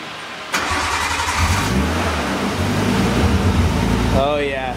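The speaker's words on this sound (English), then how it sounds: "Now let's start her up." A Nissan 240SX with an RB25 engine cranks and fires up abruptly, settling into a loud, smooth, mellow idle with a few blips of revving and a closing whine; close by, with no talk.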